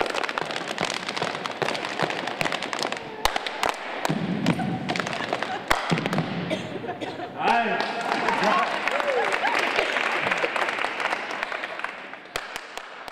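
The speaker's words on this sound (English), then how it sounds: "Clap, clap, foot, foot, one, two, three," Group of people clapping and stomping their feet in rhythm during a community engagement project, dense percussive claps and thuds filling the space, with a voice talking over parts of it.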